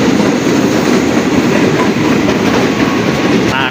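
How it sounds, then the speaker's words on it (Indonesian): A KRL commuter train rolls into a station platform with a loud, continuous rumble and rattle of wheels on track, filling the space close by, with a faint squeal near the end. "ini di peron 2 tuh masuk KRL yang ke stasiun Cikarang"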